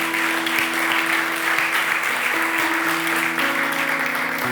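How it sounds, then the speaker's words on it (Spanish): A church congregation claps together in a steady, full round of applause, the dense clapping carrying throughout under a sustained organ-like tone. "Dale un aplauso al Señor."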